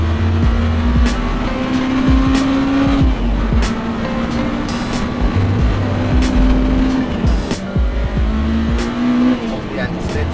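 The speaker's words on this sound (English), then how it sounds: "Wheel spin, baby." A Honda Integra Type R spins its wheels on a wet road in the rain, its engine revving and droning steadily close by, with some brief tyre noise and speech over the top.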